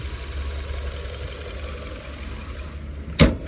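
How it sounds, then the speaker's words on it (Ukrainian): A 2019 Nissan Juke's engine idles with a steady low rumble and hum, close by, ending in a brief sharp knock near the end. "двигун працює чітко"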